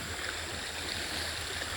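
Strong, fast water current rushing through a canal, a dense, steady roar with no breaks, close and fairly loud, with no voices.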